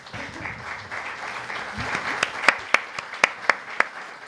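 Audience applause after a conference talk on design thinking, steady crowd clapping with a few loud, sharp claps close by standing out near the end.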